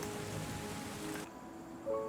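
Steady rain in the game Terra Nil, a broad hiss that cuts off abruptly partway through and leaves a quieter ambient bed with soft tonal notes.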